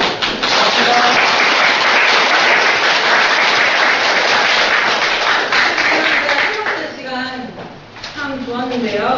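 An audience applauds a lecturer at a talk on Palestine, a dense burst of close clapping that fades after about six seconds as a voice starts speaking over the last scattered claps.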